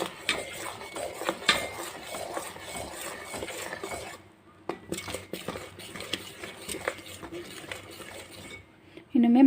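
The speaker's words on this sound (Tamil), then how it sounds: "இப்போ வந்து இது நல்லா கிளறிக்கலாம்" Athirasam batter of flour and jaggery syrup being stirred in a pan, with steady scraping and clinking of a utensil against the metal, a brief lull midway, then more scraping close up.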